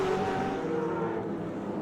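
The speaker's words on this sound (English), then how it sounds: "Magnificent sounding machine, the V12." Jaguar V12 Group A touring race car engine at a circuit race meeting, a steady loud droning roar holding a sustained pitch throughout, with no one speaking.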